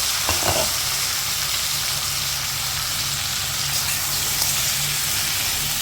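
Pumpkin fries in a pan with a strong, steady hiss of hot oil, broken only by a brief clatter of stirring near the start.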